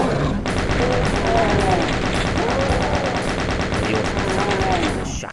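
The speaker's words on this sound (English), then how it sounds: "Shotgun shooting." Rapid gunfire rings out in Doom 2, a dense string of loud repeated shots cracking for about five seconds before cutting off, with game sounds underneath.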